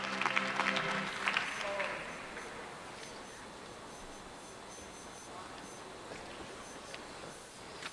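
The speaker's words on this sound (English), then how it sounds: "Let's give Austin another round of applause" Applause breaks out for the Supreme Champion heifer at a dairy show, fairly distant and moderate, then thins into a quieter hall ambience with scattered faint claps.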